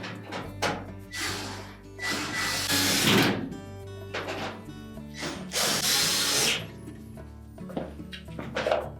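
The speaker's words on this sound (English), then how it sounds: "go ahead and tighten all the screws securely" A power drill drives retaining screws on a Whirlpool range in repeated short whirring bursts, each rising and stopping, close and loud with brief pauses between.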